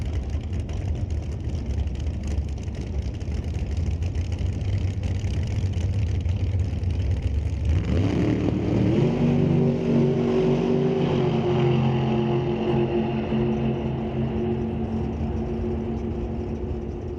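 At a drag strip, a 94 Beretta and a blacked-out Chevelle sit roaring loudly, then launch together with a surge of revving that rises in pitch through the gears and fades as they speed away.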